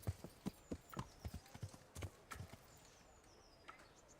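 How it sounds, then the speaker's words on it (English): A horse's hooves clip-clop at a walking pace in the Kingdom Come Deliverance video game, a steady run of distinct thuds through the first two and a half seconds, then thinning to a few sparse, quieter steps. "Does he have his horse in the vicinity?"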